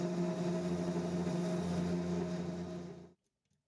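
A Cubiko CNC machine cutting aluminum inside its enclosing cover gives a steady, moderately quiet tonal hum with a noisy wash over it, then it stops abruptly near the end, leaving near silence.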